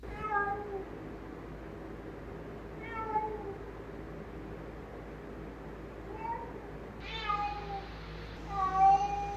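A cat meows repeatedly indoors in the small hours, about five drawn-out, rising cries spaced a couple of seconds apart, fairly close and growing louder toward the end.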